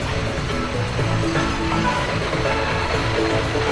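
A theme park waterfall at Alton Towers runs in a steady, dense rush of falling water, continuous and fairly loud with no pauses.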